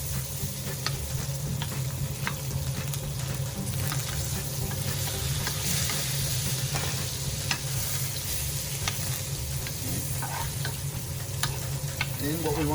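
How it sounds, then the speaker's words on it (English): A steak fries in butter while being stirred, giving a dense, close sizzle with soft scraping and spattering throughout and no voices. "Stir it around"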